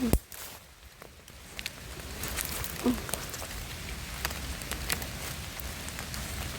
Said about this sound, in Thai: ว้าย ตกอีหลีฝน